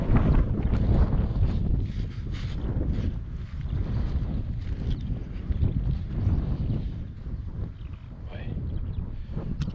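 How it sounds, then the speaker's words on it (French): Wind blowing across an open barley field, gusting and buffeting hard against the microphone in a rough, continuous rumble. "Peut-être avoir un peu de vent là."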